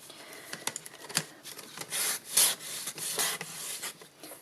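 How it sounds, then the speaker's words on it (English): Wax paper rubbed up and down on scrap paper: a series of close, dry scraping and swishing strokes, uneven in rhythm, some sharper and louder than others, with no voice over them. "just rub that up and down a bit"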